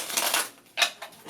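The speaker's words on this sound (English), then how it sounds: "Keep shuffling until your spirits tell you to stop." A deck of cartomancy cards shuffled by hand, two quick riffling bursts of crisp papery flutter with a short pause between, close and clear with no talking.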